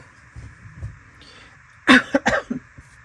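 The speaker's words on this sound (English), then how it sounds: "I am still coughing from being sick." A person coughs in a quick cluster of three or four harsh bursts after a quiet moment with faint background noise.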